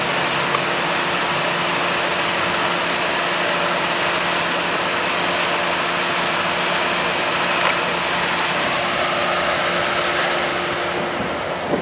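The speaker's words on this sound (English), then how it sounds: "Car running, air conditioner on," A car engine idles steadily with its air conditioner running and windows open, a continuous close hum and whir holding unchanged from start to finish with no talking.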